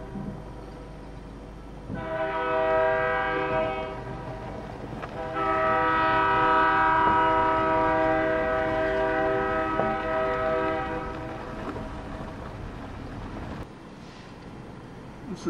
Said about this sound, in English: can hear a train in the background.